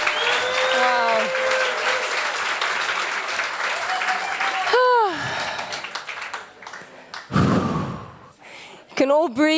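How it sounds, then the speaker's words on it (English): Audience applause for top five startups at a Cape Town startup event, steady clapping and cheering across the first half, then dramatic whooshing and rising tonal effects from the stage sound system with voices mixed in. "Let's give another round of applause to our top 5 startups."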